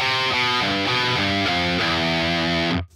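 Distorted electric guitar plays a short riff of repeated plucked notes with quick hammer-on changes, loud and steady, ending abruptly.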